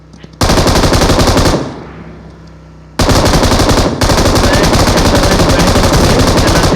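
Sustained rapid automatic gunfire from a BGMI mobile battle match, loud and close, with dense bursts that pause briefly mid-clip before resuming and running continuously to the end.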